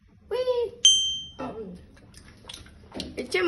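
Glasses clink once in a toast at a home kitchen counter, a short bright ring that decays quickly, set between bursts of Spanish speech.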